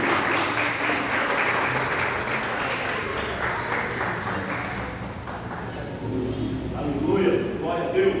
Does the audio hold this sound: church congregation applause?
yes